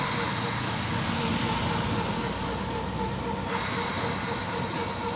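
A tram departing Ino Station in Ino, Kochi, Japan rumbles and rattles close by with a steady mechanical drone, wheels and motor noise filling the air without pause.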